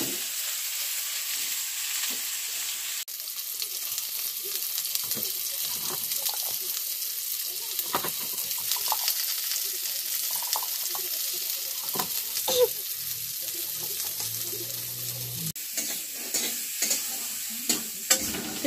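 Spices are stirred and fried in a pan for a home-style Bengali dish, with a continuous sizzle under repeated scraping spatula strokes and occasional knocks against the pan.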